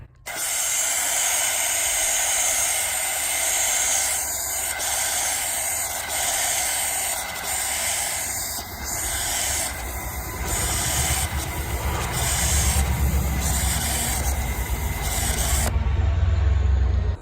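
An Ortho Dial hose-end sprayer on a garden hose sprays with an unsteady, pulsing hiss, the rushing spray wavering and surging every second or so, steady and close throughout, with no talking.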